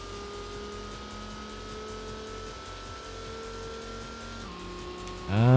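Race car engine in the Gran Turismo video game holding a steady droning tone with gear-like pitch steps, then a sudden louder burst at the end as the car is handbraked over the finish line.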